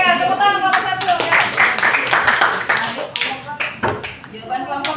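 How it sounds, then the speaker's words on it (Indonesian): Group clapping in a classroom for the first team of students, uneven bursts of hand claps mixed with children's voices and chatter. "Oke, tepuk tangan kelompok 1"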